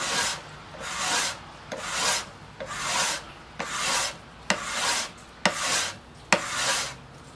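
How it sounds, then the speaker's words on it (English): A hand scraper working across a wooden electric guitar body in long, even strokes, about eight rhythmic rasping passes, each starting with a small tick, close and clear with no talk. "scraper here is straight across, and it takes care of the bumps"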